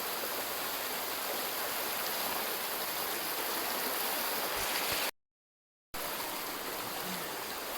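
Gently flowing stream current, a steady broadband rush of water that stays close and even, briefly cut to silence for about a second before resuming.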